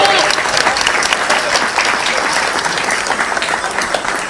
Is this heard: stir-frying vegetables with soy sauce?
no